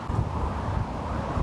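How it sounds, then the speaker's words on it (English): Steady low rumbling wind of about 40 mph buffets the microphone in cold weather in Astana, Kazakhstan, a constant roar with no voices. "It's very very windy and it's very very cold."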